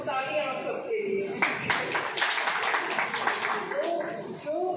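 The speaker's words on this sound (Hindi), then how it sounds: "बहुत बहुत तालियां आप सबके लिए।" Audience clapping at a journalists' honour ceremony for Narad Jayanti in Hansi, a dense burst of many hands breaking out after a voice and then carrying on steadily, with a voice returning over it near the end.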